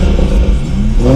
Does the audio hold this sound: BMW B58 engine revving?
yes